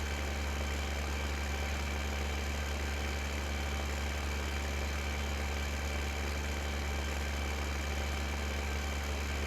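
Tractor engine idling steadily in Farming Simulator 15 on the Sosnovka map, a constant low mechanical drone with a faint vibrating hum, held at an even level throughout.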